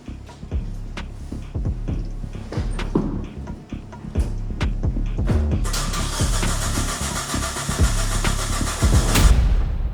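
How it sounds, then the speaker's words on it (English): Suzuki Samurai engine cranking during a fuel-supply test, heavy repetitive starter churning with uneven thumps, then a denser roar that briefly catches before cutting out near the end. "And then I'm going to crank this thing."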